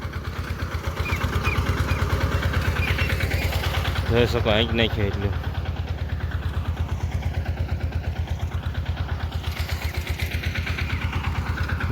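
A small mini tractor engine idles nearby with a steady, rapid, low thumping rhythm that runs throughout, while someone talks over it.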